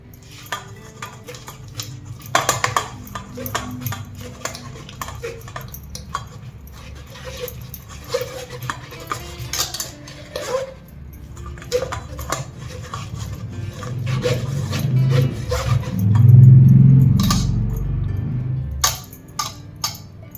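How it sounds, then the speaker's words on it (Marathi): Cooked sweet potato is mashed to a smooth paste with a metal utensil in a pot, giving irregular scrapes, clinks and soft thuds that swell into heavier, steady rubbing near the end. "असंच आपण आता सगळे रताळा मॅश करून घेऊया, असं पुरणासारखं वाटून घेऊया"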